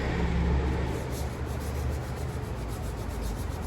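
A car is rubbed by hand with a cloth, giving a continuous soft, even scrubbing close by with no talking.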